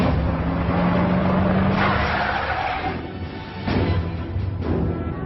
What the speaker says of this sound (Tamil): சந்தேகப்படுற மாதிரி ஒரு வண்டி வந்திருக்கு.